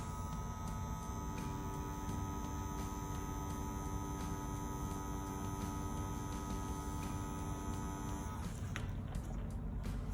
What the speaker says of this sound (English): Now, as I pull these lines, you can hear the consistency. It's low vibration.